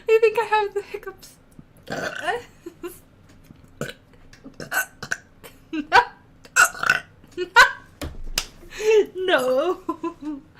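Repeated burps from a woman, short voiced belches scattered across the stretch with sharp clicks and slapping sounds between them, close and fairly loud, mixed with brief vocal noises.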